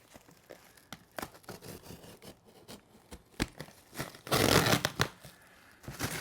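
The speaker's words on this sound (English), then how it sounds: "I'll cut down this side." Cardboard package sliced open with a blade, giving a run of sharp, scattered scratching and tearing strokes up close, with a denser, louder rasping burst near the end and no talking.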